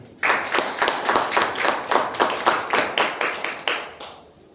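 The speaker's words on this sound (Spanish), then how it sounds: "Recibimos por favor con un fuerte aplauso a Gabriel Ibarra." A small audience at a mining convention gives about a dozen distinct, evenly spaced claps, each crisp and close, fading out after roughly four seconds.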